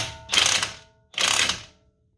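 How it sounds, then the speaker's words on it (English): An impact wrench pulls a wheel stud into the front hub of a 2016 Kia Forte in two loud, close bursts of rattling hammering, each about half a second long with a short pause between, and no talking. "And then you take your impact wrench if you have it,"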